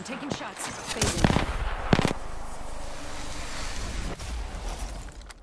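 Video game gunfire crackles in rapid bursts with sharp close shots early on, followed by a lingering rumbling battle ambience and a scattering of fainter distant pops.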